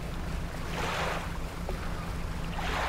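Small boat motoring across open water at night in the fishing game Dredge, a steady low engine hum and rushing water with rising swells of wave wash, continuous and fairly close, no talking.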